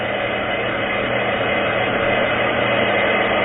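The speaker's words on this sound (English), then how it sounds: "Hold the blow dryer over the same spot." A steady, loud whooshing blow dryer runs continuously on hair being round-brushed, a constant airy roar with no talking.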